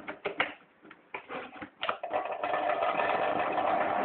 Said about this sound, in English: If you have a blow dryer at home or here that blows hot air